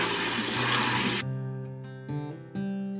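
Water runs from a tap over seeds in a fine strainer: a loud steady gush that cuts off, followed by a few short bursts of splashing and dripping.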